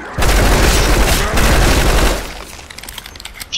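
Bursts of rapid gunfire from a gun in a video game, loud and dense for about two seconds, then tapering into scattered lighter shots and clicks, with no speech.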